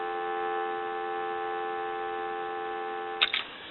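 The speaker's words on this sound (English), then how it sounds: "I want to give you some dial tone." Steady telephone dial tone from a Pepsi Cola novelty phone on the repair bench hums continuously at moderate level, ending with a couple of faint clicks.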